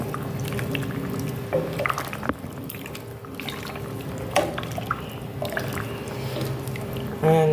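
Sorrel and ginger drink stirred in a pot on a stove, with soft liquid swishing, dripping and light knocks that stay steady and close throughout.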